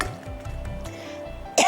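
A single short cough near the end, close and abrupt, after a stretch of quiet background noise.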